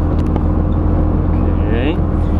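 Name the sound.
Volvo 240 car engine misfiring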